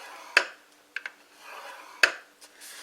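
A gift box blank is scored at measured marks: a few short, sharp scraping clicks come up close, separated by quiet pauses.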